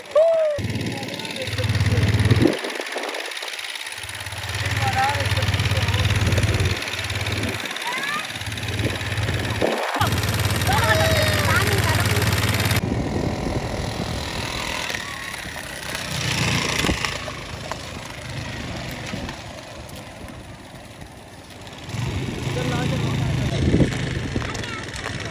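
A small beach ride vehicle on the sand at Sea View, Karachi, revs its engine loudly and close by, rising and settling over about 25 seconds, with voices in the background.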